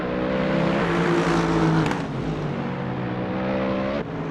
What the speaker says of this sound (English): they can't hear you over these cars